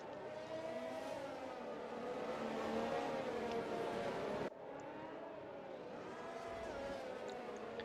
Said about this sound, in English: We see there Okusif doing some burnouts to warm up his rear tires.